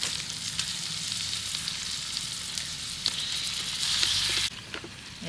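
Washed prawns sizzle in ground masala in a pan over an outdoor cooking fire, a steady close hiss and crackle that swells briefly before dropping off abruptly.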